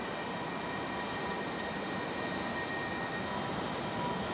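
Steady airliner engine rumble and whine at Raleigh-Durham airport as a jet taxis in stormy weather, a continuous even drone with a faint high tone running through it.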